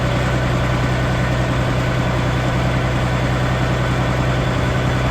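Farm vehicle engine idling steadily just after a cold start on a chilly morning, a loud, continuous low rumble with an even pulsing throb and no talk.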